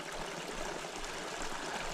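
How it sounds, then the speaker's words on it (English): A small spring-fed creek cuts across a hiking trail to a little spillway, giving a steady close rush of flowing water that stays even throughout. "waterway that is making a cut through and across the trail here to a little spillway"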